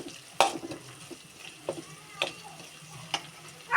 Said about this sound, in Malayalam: കറിവേപ്പില, വറ്റൽമുളക് ഇട്ട് വഴറ്റി കൊടുക്കാം.